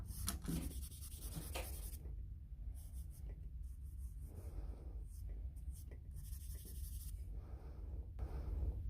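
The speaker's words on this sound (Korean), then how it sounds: "어둡게 보이는 부분들을 먼저 이렇게 칠해 볼게요" Shading a drawing on paper leaves a faint, steady scratchy rubbing of strokes that comes in repeated bursts over a constant background hum, with no talking.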